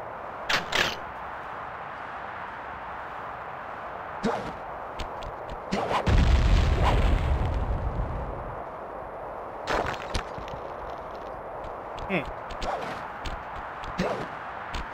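Rockets fire in Sly Cooper and the Thievius Raccoonus, with sharp cracks scattered through the clip and one longer rumbling blast in the middle over a constant hiss of game noise.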